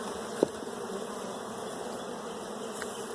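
Honeybees hum inside an opened hive during a brood inspection, a soft continuous buzz close up with one brief tap partway through.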